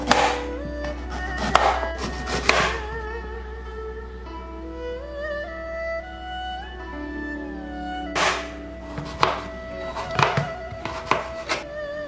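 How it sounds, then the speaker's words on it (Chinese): A knife cuts fresh ginger into thin strips on a board in quick bursts of rapid tapping chops at the start and again at the end, with a quiet, sustained musical tone running underneath. "我们只需先取出一小片的生姜，然后将它清洗干净后切丝"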